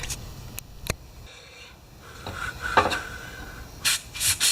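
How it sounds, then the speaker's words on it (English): A wire brush scrubs the tip of a carburetor needle from a Craftsman mower with a Kohler engine, with short, gentle, uneven rasping strokes, a few sharper scrapes and louder brushing near the end. "I'm going to just wire brush this so carefully"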